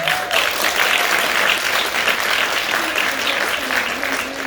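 An audience at a film Q&A applauds in a steady, dense wash of clapping, moderately loud and sustained for the whole stretch, with a faint voice underneath.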